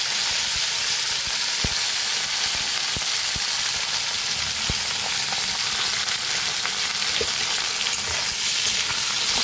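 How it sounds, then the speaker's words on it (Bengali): Ivy gourd and green chillies fry in hot oil with a steady, dense sizzle that holds loud and close throughout, broken by a few soft knocks. "এবার আমি তেলের মধ্যে কুঁদরিগুলো দিয়ে দিলাম, তার সঙ্গে দিয়ে দিলাম কিন্তু কাঁচা লঙ্কা ফোড়ন"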